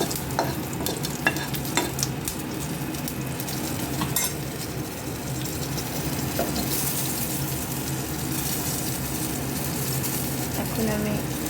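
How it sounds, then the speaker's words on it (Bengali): Nigella seeds, bay leaf, dried chilli and green chillies crackle in hot oil for a vegetable dish of ash gourd, with a steady close sizzle and stirring scrapes throughout, plus a faint tap-like hiss. "কালো জিরে, তেজপাতা, শুকনো লঙ্কা, ফোড়ন আর দুটো কাঁচা লঙ্কা দিয়ে ফোড়ন দিয়ে দিচ্ছি"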